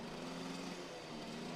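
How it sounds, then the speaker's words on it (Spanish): A lone motorcycle's engine roars in a steady, loud, close drone that holds without a break and eases slightly toward the end. "Sentí el estruendo de una moto solitaria."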